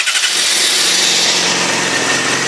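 A 2007 Yamaha YZF R6 sport bike engine fires up and settles into a steady, loud, close idle with a continuous buzzing drone.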